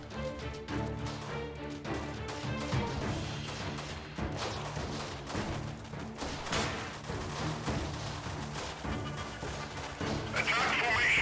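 Gunfire in the combat game Freeman Guerrilla Warfare, a busy mix of rapid shots and crashing impacts layered over steady engine-like drone, continuous throughout, with a person talking over it.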